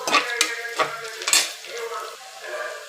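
Onions frying in oil for vegetable biryani, a steady close sizzle broken by clinks and scrapes of a spoon stirring in the pan.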